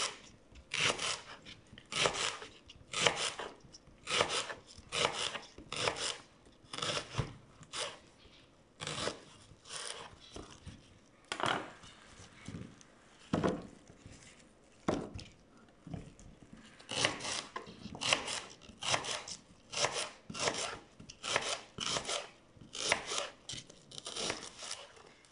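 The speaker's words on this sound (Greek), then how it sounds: "Τώρα θα κόψω τα λαχανικά μου." A knife chops leeks and celery on a board in quick, close bursts of crisp cuts, sharp rhythmic strokes grouped in runs with brief pauses between, no talking.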